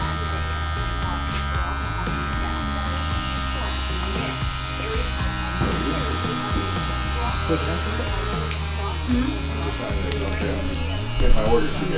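Barber's hair clippers buzz steadily through a mullet haircut, the blade lever opened gradually as they work down, with a continuous close electric hum and speech underneath.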